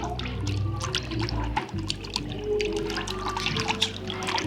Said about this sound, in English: another waterfall ASMR for you.